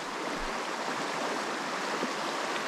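A river running high at about twice its usual flow rushes in a dense, constant roar, close and loud with no talk over it.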